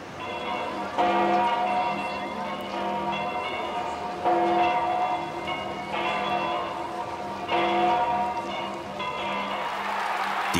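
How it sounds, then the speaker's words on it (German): The church bells of St. Peter's in Rome ring out in repeated resonant peals, several bells overlapping in a steady swinging rhythm, heard from a distance over a faint murmur of crowd. "Die Glocken der Peterskirche verkünden die Sensation."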